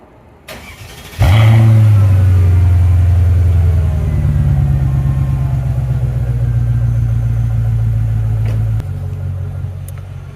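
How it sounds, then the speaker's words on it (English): A car engine cold-starts with a sharp crank and catch, then settles into a loud, close, steady rumbling idle with a raised rev before easing slightly near the end, with no voices. "let's go give this thing a bit of a cold start, shall we?"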